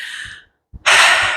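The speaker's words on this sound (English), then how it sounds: "A few deep breaths here." A deep breath during yoga practice: a long, loud, airy exhale, a short silent pause, then a strong inhale that swells and holds, close and clear with no talk.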